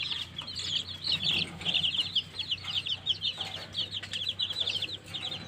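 Rapid clucking and chirpy calls from white black-tailed bantam chickens, fairly close, in a steady busy stream with a low background hum and no talking.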